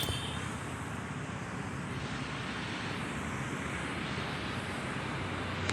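An airplane flying overhead makes a faint, steady broadband roar that holds evenly for several seconds with no voices, heard from outdoors at a distance.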